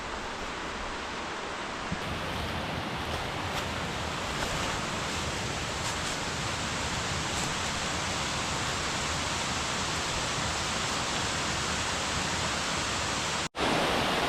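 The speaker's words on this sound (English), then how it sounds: "with not one but two waterfalls right next to each other" A waterfall on a backpacking loop at Gorges State Park, North Carolina, with a second fall beside it, roars in a loud, steady rush of broadband noise that cuts off abruptly near the end.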